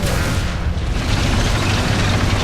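A tank is destroyed by a shot from an IS-1 in War Thunder, heard as a loud, dense, sustained boom with a broad rumbling roar that lasts throughout and has no talk.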